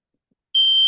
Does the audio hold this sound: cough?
no